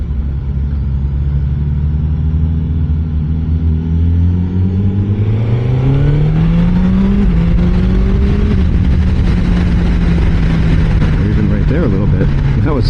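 A 2025 Suzuki motorcycle, from a lineup of Hayabusa, GSX-8R and GSX-S1000GT, accelerates hard down a track straightaway, its close engine note climbing through gears in rising sweeps under steady wind roar.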